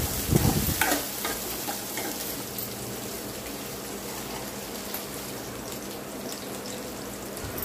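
Egg fried rice mixture stirred in a hot pan, a steady sizzle and scraping stir throughout with a louder burst at the start, no talk.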